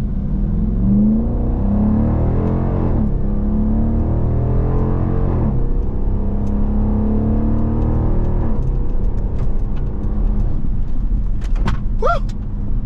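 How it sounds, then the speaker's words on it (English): A 2023 Dodge Durango R/T V8 accelerates hard in sport mode with manual paddle shifts, its engine note climbing in repeated sweeps that drop at each upshift, loud and steady from inside the cabin. "So this thing can get up and move with this V8."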